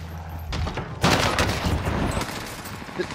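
Gunfire in the Call of Duty Warzone Pacific video game, a sustained burst of rapid shots that starts after a short lull and keeps rattling densely through the rest of the moment.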